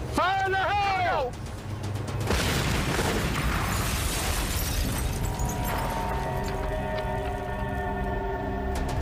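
A loud boom erupts after a brief rising tone, then gives way to a long, rumbling, crackling aftermath with debris settling and a lingering hum.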